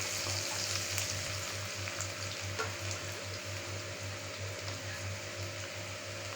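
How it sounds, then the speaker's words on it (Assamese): Red chilli powder and spices frying in a pan for a sweet-sour Assamese curry, with a quiet, even sizzle and faint stirring over a low, steady rhythmic hum, with no voices. "এতিয়া মই এইখিনি লৰাই দিম।"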